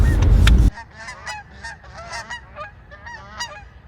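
Geese honk on a pond. A burst of loud rumbling opens the clip, and then repeated nasal honks follow at mid distance, several birds calling over one another in an uneven rhythm.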